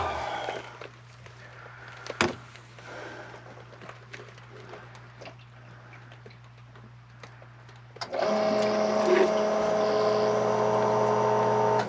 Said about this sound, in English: the pump works